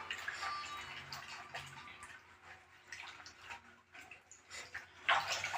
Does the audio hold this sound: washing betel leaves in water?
yes